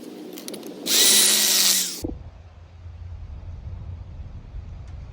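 A used jigsaw cuts pallet wood in one loud, buzzing burst of about a second, then stops, leaving a low hum and quiet room tone.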